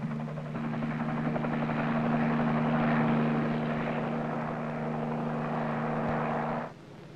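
An H-34 military helicopter drones steadily overhead, its rotor and engine holding a constant, loud whir that cuts off abruptly near the end.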